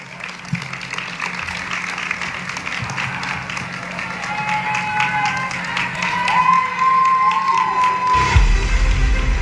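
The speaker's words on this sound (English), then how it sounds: "All right, keep those claps going." Audience applause at a university awards ceremony, steady clapping and cheering from a large crowd that builds gradually and then breaks off near the end, with a voice over it.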